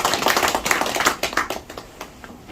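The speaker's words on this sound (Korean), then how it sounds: "다시 한번 박수." A small audience claps after a talk, a brief burst of individual hand claps with loose uneven rhythm that thins out and fades toward the end.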